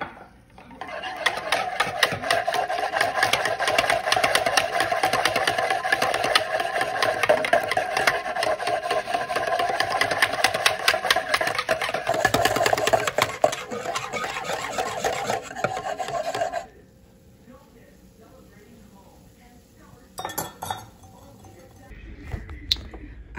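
A spoon stirs watermelon jello, made from dissolved gelatin, hot water and pureed watermelon, in a bowl, giving a continuous close scraping and rubbing that goes on for many seconds, then stops, leaving near silence with a few faint knocks.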